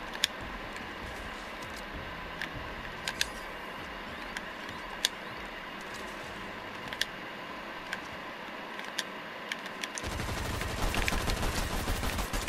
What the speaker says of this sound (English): I have to literally shoot him with a pistol.